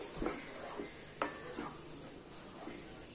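Quiet stirring of a roasted-coconut tomato curry in a pan, a few soft scrapes and knocks over a faint background hiss.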